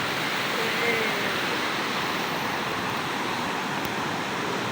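Strong current of a rushing river near Sitio Colacog in rural Ragay, a constant broadband roar of water close by, loud and unbroken with no voices.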